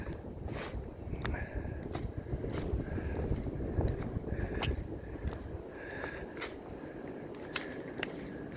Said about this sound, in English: Windy and cool.